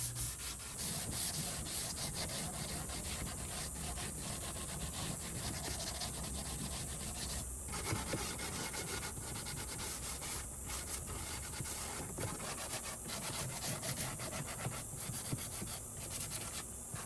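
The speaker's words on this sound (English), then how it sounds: "Just going to use my sanding block to get into some of these crevices" A sanding block rubs back and forth by hand over an old wooden dresser, a continuous close scratchy scuffing with brief pauses, no talking.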